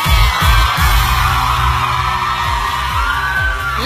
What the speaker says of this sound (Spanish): Fuerte el aplauso para Eric.